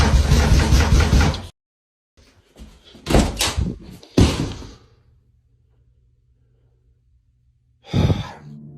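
Door being opened in a house after strange knocking, a few short thuds and clunks between quiet gaps, preceded by a loud breathy burst and followed by a low hum.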